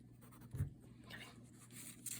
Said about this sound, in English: I'm just going to use my pencil to mark that out